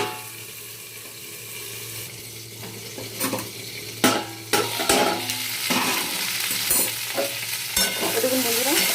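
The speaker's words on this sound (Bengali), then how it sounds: "সবজিটা একটু ভাজা ভাজা করবো" Vegetables sizzle in hot oil in a pan, with a steady frying hiss and bursts of spatula scraping and clinking as they are stirred, close and alone with no talk.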